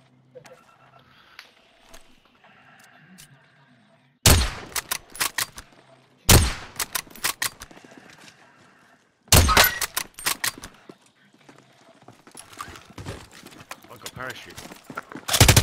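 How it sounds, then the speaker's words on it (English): Gunfire in the shooter Call of Duty: Modern Warfare: several loud, sharp bursts of rapid shots break out after a quiet start, separated by short gaps, while a player talks. "Sustaining fire."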